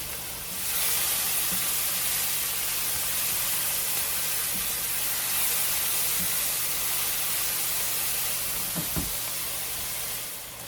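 Onions and garlic fry in olive oil in a pan for Greek cooking, giving a steady, close sizzling hiss that starts abruptly and holds evenly throughout, with a few faint clicks and no talking.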